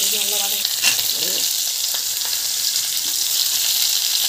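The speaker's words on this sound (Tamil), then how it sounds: "ஸோ ஆனியன் சேர்த்துங்க, கடுகு நல்லா வதக்கி" Onion and mustard seeds frying in hot oil for a mango sambar give a dense, even sizzle with occasional stirring clatter, close and steady throughout, with no talk.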